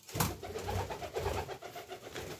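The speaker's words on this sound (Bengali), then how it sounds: "এই যে এটা হলো পায়রি।" Nesting pigeons coo softly and steadily at close range, a low rolling murmur repeating throughout without any talk.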